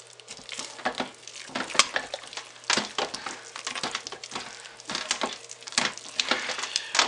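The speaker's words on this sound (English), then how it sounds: "This does take quite a bit of stirring." A spoon works steadily through thick hot process soap with scent oil mixed in, giving close, uneven scraping and squelching strokes in a continuous rhythm with no talking.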